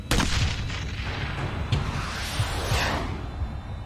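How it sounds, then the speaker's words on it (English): An anti-tank rocket fired at a tank on a bridge in the Vietnam War: a sharp launch blast followed by a rushing whoosh and booming rumble, with further thuds and echoing gunfire in a dense, loud battle soundscape. "A lone South Vietnamese Marine aims to stop it with an anti-tank weapon."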